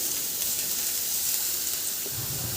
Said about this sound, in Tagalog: Magpainit na ako ng kunting mantika sa kawali at igisa ko na yung bawang